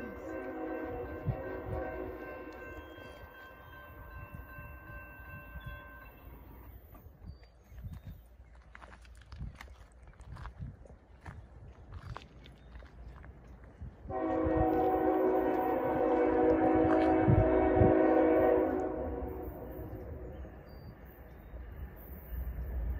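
A CSX/NS freight local rolls past with wheels clattering and rumbling, sounding its horn in two long chords, the first fading away before a louder, fuller blast later on.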